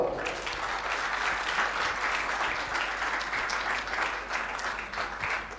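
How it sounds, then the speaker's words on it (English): Continuous applause from an audience at an inter-class school debate competition, an even, sustained wash of many hands clapping in a hall, moderately loud. "Let's welcome both the teams by a huge round of applause."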